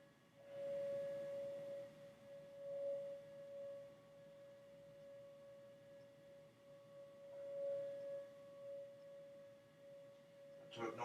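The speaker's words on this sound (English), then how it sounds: "To ignore the siren in the background," A distant siren wails steadily in the background while a bacon Doritos cheeseburger is assembled, its sustained tone rising and falling gently in a few slow swells throughout, faint and continuous with no talking over it.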